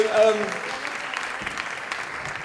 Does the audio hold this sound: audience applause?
yes